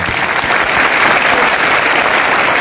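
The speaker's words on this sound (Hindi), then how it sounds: "मैं चाहूंगा अभी तक की सबसे जोरदार ताली उन परवरदिगार के लिए" Loud, dense applause from a large audience at a business-plan seminar, a continuous roar of many hands clapping together at full strength with no talk over it.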